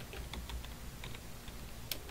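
Faint, scattered clicks of typing on a computer keyboard, a few keystrokes in irregular rhythm over a quiet background.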